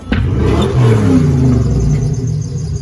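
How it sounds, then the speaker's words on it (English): A car engine revs hard and loud up close, a sustained rising and falling roar that fills the whole stretch with no talking. "She just shows up and revs the life out of it every time."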